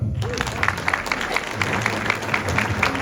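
A Chamber of Commerce keynote audience applauds to welcome the speaker, a dense, steady patter of many hands filling the room, with voices murmuring faintly underneath.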